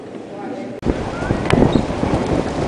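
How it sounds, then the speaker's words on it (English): Strong, cold wind buffets the microphone outdoors on the National Mall in Washington, DC, outside the Smithsonian Castle, giving a steady broadband rumble with a sharp gust thump partway through. "it's very windy and cold right now"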